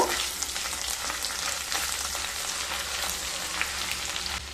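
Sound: ginger and garlic paste frying in melted ghee

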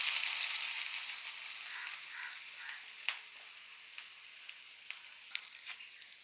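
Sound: frying chopped onions in oil

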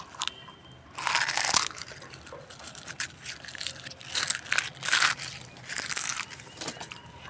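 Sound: crushing eggshells by hand

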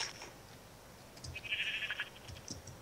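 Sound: sheep bleating in the video game Minecraft

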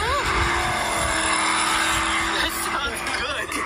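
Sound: electric car simulated engine sound

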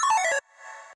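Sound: bloop arpeggio synth on a square wave

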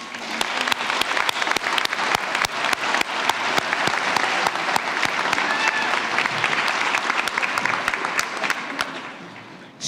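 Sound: applause at a high school commencement

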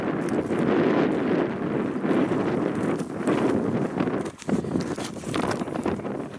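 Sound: wind on limestone shore

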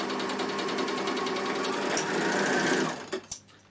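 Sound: Bernina L450 overlocker sewing 4-thread overlock stitch

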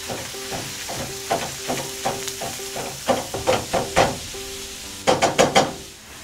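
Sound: ground beef frying in hot oiled pan

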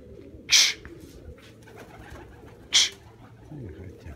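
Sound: pigeons cooing

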